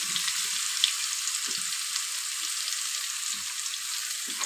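Panch phoron spices with turmeric, salt and chili frying in hot oil, a continuous close hiss with a few soft low knocks of stirring.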